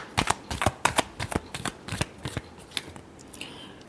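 Tarot cards being shuffled by hand, a quick series of sharp riffling slaps and flutters up close that thin out toward the end, with no voice over them.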